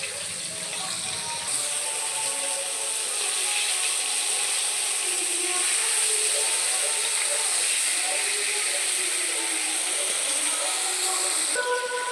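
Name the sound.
prawns frying in hot oil in a wok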